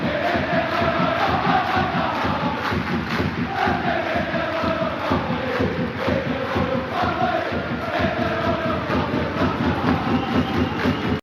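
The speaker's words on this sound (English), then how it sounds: "Over a 1-minute applause for the Queen." Large outdoor crowd at the Queen's funeral claps and cheers in a long, continuous wash of applause and shouting voices, dense and steady throughout.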